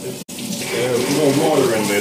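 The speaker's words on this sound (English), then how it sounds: "I'm getting a liter of water." Water poured from a kitchen tap, a continuous gushing splash that begins after a brief dropout and fills steadily, with faint voices in the background.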